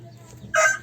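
A rooster crows loudly and close by, a sudden bright call after a quiet moment, with a second call starting just after.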